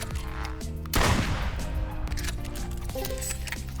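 Video game gunfire erupts in a loud, close blast followed by scattered sharper shots, all layered over a steady musical game soundtrack.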